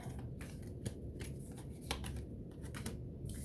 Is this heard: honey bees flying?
no